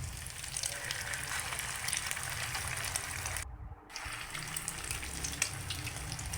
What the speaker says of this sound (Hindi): सारी टिक्कियाँ हमने ऑयल में डाल दी हैं।